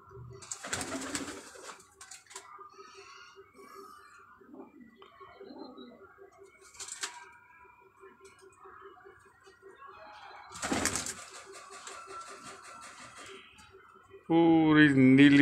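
Pigeons, including Kamangar and Golden Teddy breeds, give soft intermittent coos in a quiet loft, with scattered rustling and someone talking nearby, ending in a sudden louder burst.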